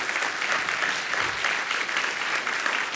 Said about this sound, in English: Big round of applause for Zoltan.